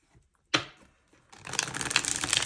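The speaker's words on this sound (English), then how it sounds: "This deck shuffles so nice." Tarot deck being shuffled by hand: a single sharp riffle burst, a short pause, then a longer continuous crackling flutter of cards, close and clear with no talk.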